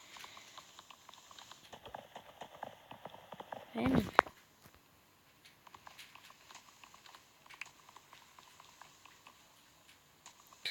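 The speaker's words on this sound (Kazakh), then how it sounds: "ой погода жаңбыр жауып жатыр" Rain falling in the Minecraft video game, a faint, steady hissing patter running under a quiet voice, with one brief louder rustle partway through.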